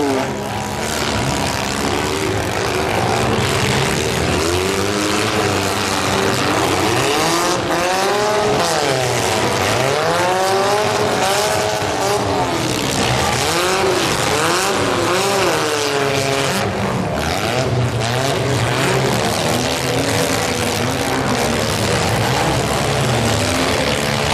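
Stock compact race cars roar back up to speed on a dirt oval after a red flag, several engines revving and rising in pitch together, loud and continuous with overlapping passes.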